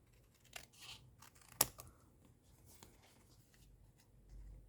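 Scissors snip the corners of a paper album page, sparse crisp cuts and light paper scratches close by in a quiet room, with one sharper snap partway through and no talking.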